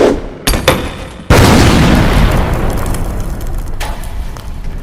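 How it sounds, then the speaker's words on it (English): Grenade explosions in a Warhammer 40k animated series: a couple of sharp blasts, then a big booming detonation that rolls into a long, loud rumbling decay with scattered cracks, near and without talk. "throw your grenades!"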